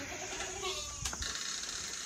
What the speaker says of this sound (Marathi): शेळी वरडते मित्रांनो हो का पाजायसाठी, हुडकायसाठी